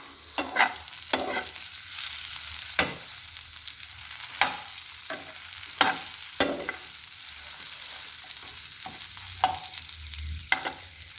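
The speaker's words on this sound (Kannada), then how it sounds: "ಎಣ್ಣೆ ಕಾಯ್ದ ಆಮೇಲೆ ಬೆಂಡೆಕಾಯಿನ ಹಾಕಿ ಚೆನ್ನಾಗಿ ಹುರ್ಕೊಳ್ಳಿ" Okra frying in hot oil in a home kitchen pan, with a steady low sizzle under repeated sharp scrapes and clinks of stirring spaced a second or two apart, close and fairly quiet, with no talking.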